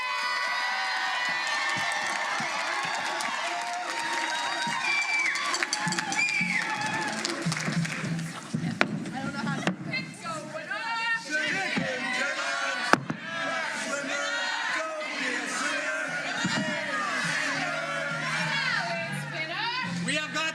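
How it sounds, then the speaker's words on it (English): A large crowd at a nationals competition night cheers, whoops and applauds continuously, loud and dense, while an announcer's amplified voice carries over the noise. "I need a big round of applause for a theme event"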